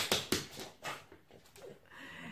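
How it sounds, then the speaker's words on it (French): A dog scratches at an indoor rug as if digging in earth: a few sharp scraping strokes at first, then softer irregular rustles, close and fairly quiet. "Les bruits de la chienne qui gratte le tapis comme si c'était de la terre."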